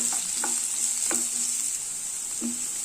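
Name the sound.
chopped onions sautéing in hot oil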